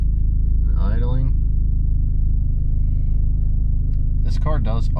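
A Dodge SRT-4 engine idles with a steady, loud low rumble and an even pulsing throb, while a person speaks briefly over it twice.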